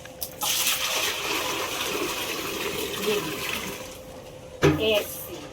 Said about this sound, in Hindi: तो कुएं से पानी में ऐसे निकालती हूँ